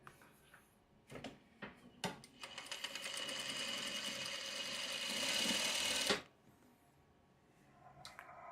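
A sewing machine stitches a quilt block: a few short clicks and taps, then one steady, close whirring run of about four seconds that stops sharply, followed by quiet handling noises.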